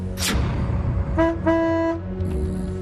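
A car horn honks in two or three short blasts over steady traffic noise, loud and close.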